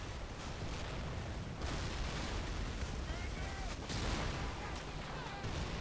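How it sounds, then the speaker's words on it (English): An artillery barrage in the World War II game Men of War: Assault Squad 2 pounds a beach landing on Le Shima island, a dense, continuous roar of shell blasts and gunfire with no clear gaps, heavy and unrelenting throughout. "Artillery support incoming on the middle."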